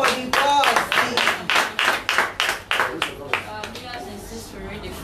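A group claps for the boss at a charity foundation gathering: a dozen or so sharp, evenly timed claps in a steady rhythm that gradually fade. Voices murmur faintly underneath.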